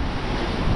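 Strong wind roars during a rainstorm at Arraial do Cabo on the coast, with crashing waves blending into a steady, loud, broadband rush that never lets up.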